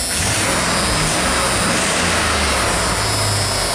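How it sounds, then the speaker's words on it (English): A 1988 Ford F350 dump truck's V8 engine runs loud and close with a steady, dense roar, while the truck has a misfire and low power. "And the truck is still running. Running pretty well."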